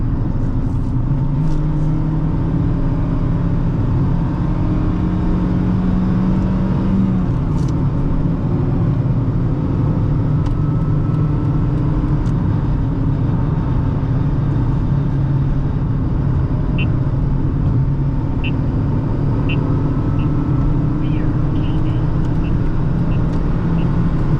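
A 2008 Honda Fit cruising down a road, its engine humming steadily with shifting pitch as speed changes, under constant tire and road rumble heard from the cabin.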